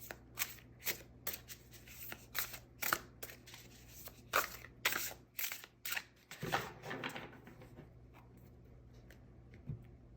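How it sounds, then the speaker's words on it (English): Apparition Tarot cards shuffled by hand into three groups, a run of crisp riffling flicks and soft slaps in quick uneven bursts, close and fairly quiet, with no talking. "I'm going to go ahead and shuffle the cards here into the 3 different groups."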